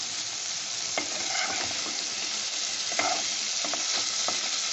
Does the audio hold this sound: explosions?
no